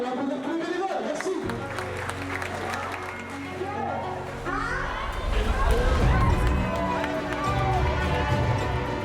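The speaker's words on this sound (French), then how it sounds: "Vous pouvez applaudir, tous les bénévoles." A crowd at a trail race in Ubaye claps for the volunteers, the applause swelling midway and continuing under someone speaking French and scattered cheering.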